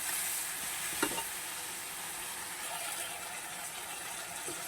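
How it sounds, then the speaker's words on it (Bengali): Spice paste with a little chili powder sautéing in a pan for a rui fish curry, a steady soft sizzle throughout with a faint stir or scrape near the start, no voices. "মশলাটাকে ভালোভাবে কষিয়ে নেব"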